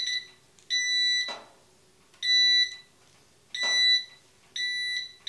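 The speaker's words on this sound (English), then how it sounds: "Better test my metal detector out, make sure it works." A metal detector being tested in a woodshop gives four steady, loud electronic beeps at a regular rhythm, each lasting about a second, with short gaps and no talking.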